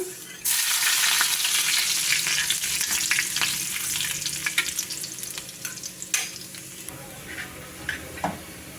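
Garlic drops into hot coconut oil where mustard seeds have already popped, setting off a loud burst of sizzling that settles into steady frying with scattered crackles and pops, close by and with no voices.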